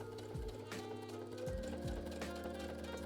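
A sewing machine top stitching a double front knee patch on workwear jeans, a steady close mechanical whir with faint rhythmic clicking and a few low thumps as the motor runs.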